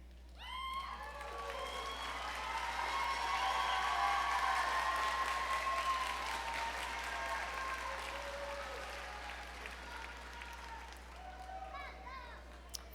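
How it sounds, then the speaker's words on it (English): Graduates and families at a community and technical college commencement ceremony applaud and cheer, a broad swell of clapping with scattered shouts and voices that builds to a peak midway, then slowly tapers. "will you please stand, wave, shout, and applaud the people that you have here?"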